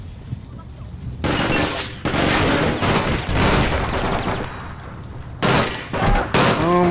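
A bomb goes off amid gunfire in the APB online shooter, with loud, sharp bursts of shots and blasts separated by brief lulls, some rapid volleys close together.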